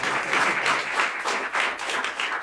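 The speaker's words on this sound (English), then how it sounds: "Give him a round of applause." An audience bursts into warm, sustained applause for a young Detroit-born Juilliard pianist at a live jazz show in a coffee house. Dense clapping holds steady throughout with no voices over it.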